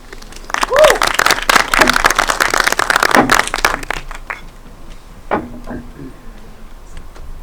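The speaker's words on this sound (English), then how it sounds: "So a big round of applause." Conference audience applauds a panel on layer 2 blockchain networks, with dense clapping for about four seconds that then thins to a few scattered claps and low murmur.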